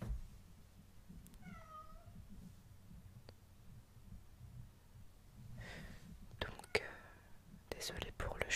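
Cat meowing once, a short mid-distance meow near the start amid quiet breathy whispering, followed by soft rustling and tapping sounds.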